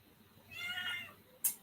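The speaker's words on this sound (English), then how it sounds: "A kitty wants attention there in the background." A cat meows once in the background, faint and short, with a small sharp click just after it in an otherwise quiet room.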